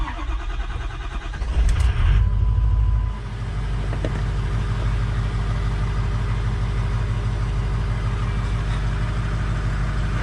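A 6.0 diesel truck engine cranks and fires, then settles into a steady, close idle while warming up, with its low clattering rumble continuing evenly to the end.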